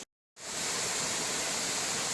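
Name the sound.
mountain creek flowing near top of Ellicott Falls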